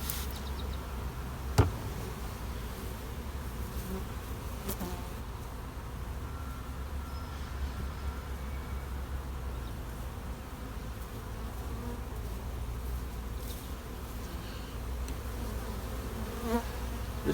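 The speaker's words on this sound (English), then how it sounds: "And I'm going to add a load more bees into this hive" Honey bees buzzing around a hive during a bee rescue, a steady, continuous hum from many insects close by, with a couple of brief sharp knocks early on.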